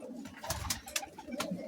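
Pigeons coo softly and repeatedly close by in a loft while pairs are matched for breeding, with rhythmic throaty calls and light rustling.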